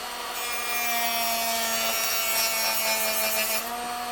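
Power tool cutting into wood to take out an extra quarter inch, a steady dense rasping whine that runs unbroken for about four seconds, close and loud, with no talking.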